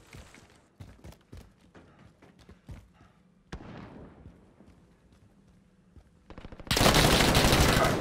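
Light machine gun fire in a video game: rapid bursts of shots, then a sustained, loud roar of continuous fire near the end, with scattered thuds earlier.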